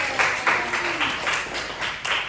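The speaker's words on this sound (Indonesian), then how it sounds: "Tepuk tangan dulu untuk kelompok 3" A classroom claps for a student group after its presentation, with a short run of quick, rhythmic hand claps at moderate loudness and some faint voices underneath.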